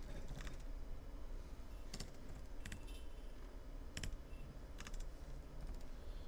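Computer keyboard typing in a classroom programming session, with irregular clusters of quick key clicks over a steady background hum, fairly close and not very loud.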